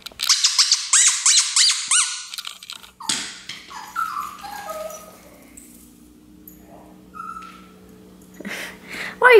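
A puppy whines close by in a rapid series of high, rising whimpers, then fainter drawn-out cries and one more burst near the end.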